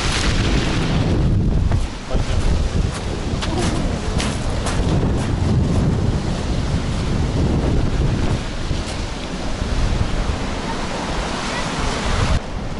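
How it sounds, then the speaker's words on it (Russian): Strong wind gusting against the microphone over the continuous crash and wash of Black Sea surf at Adler, loud and unbroken throughout. "Здесь ветер."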